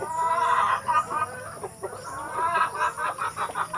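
A laying hen clucks in a rural backyard, a run of close, repeated throaty clucks and cackles that rise and fall in bursts, with no talking.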